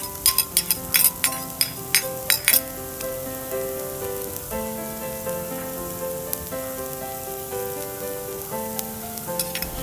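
Garlic and shallots sizzle in rendered chicken fat in a wok, opening with a few sharp clinks of utensils against the pan, then a steady, moderate frying hiss under soft background music.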